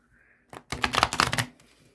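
A Sunny Skeleton tarot deck shuffled by hand, one quick burst of riffling card clicks lasting about a second, close and clear, with no talk.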